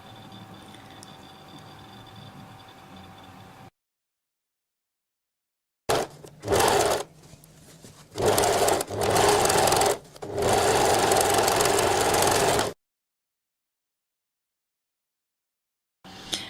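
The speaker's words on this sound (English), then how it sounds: "So when you're sewing, just put the next piece straight under and do them all in one go." A sewing machine stitches coat sections together in three loud, close bursts of rapid mechanical whirring, broken by short pauses and long stretches of silence, with a quiet hum at the start.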